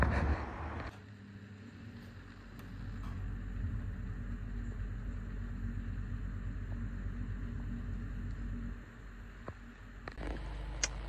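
A Mazda Skyactiv 2.2 diesel engine starts and settles into a steady, low rumbling idle, heard close and continuous with faint clicks over the drone.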